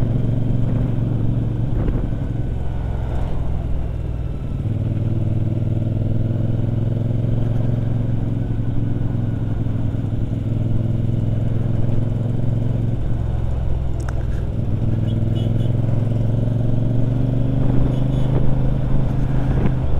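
A CFMoto motorcycle engine drones steadily while riding, a loud, close mid-pitched hum with a faint mechanical clatter, shifting tone slightly as the revs change.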